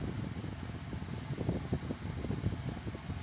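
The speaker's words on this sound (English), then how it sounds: "my air conditioner working pretty quick" A car air conditioner blows at a steady whoosh inside the vehicle, a close, constant airy rush with faint rhythmic flutter and no other sounds over it.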